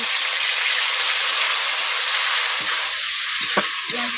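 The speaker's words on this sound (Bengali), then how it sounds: "তেল গরম হয়ে গেছে ওতে দিয়ে দিচ্ছি পেঁয়াজ কুচো টমেটো" Chopped onion and tomato hit hot oil in a wok, making a loud, steady frying sizzle that fills the whole clip, with a few faint clinks of a utensil near the end.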